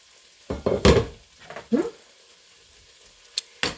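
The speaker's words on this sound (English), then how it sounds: "And then I've got about a half a cup of onion that we're going to add to our pot." Chopped onion and broccoli tumble into a pot for broccoli cheddar potato soup, giving a few loud close clattering drops and a sizzle, then a quiet pause and more small knocks against the pot.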